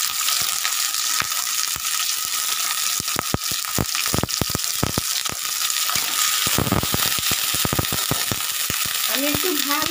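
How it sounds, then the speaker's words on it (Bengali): Sliced onions with black cumin and chili sizzle steadily in a pan, a dense hiss broken by sharp crackles and the scrape of stirring, with a brief clank near the end. "পেঁয়াজটা ভাজা ভাজা হয়ে গেছে বন্ধুরা, দেখতে পাচ্ছ।"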